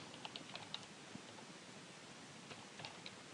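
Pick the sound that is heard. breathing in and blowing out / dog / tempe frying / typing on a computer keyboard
typing on a computer keyboard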